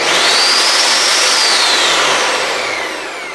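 A Ninja Foodi Power Pitcher blender runs at full power, a loud, harsh whirring roar that holds steady with a rising and falling whine, then starts to ease off toward the end.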